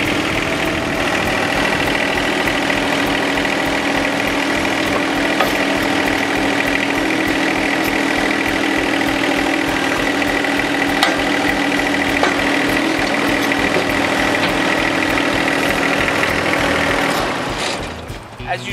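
A John Deere 1025R compact tractor's engine runs at a steady idle, close and loud throughout, then drops away sharply near the end.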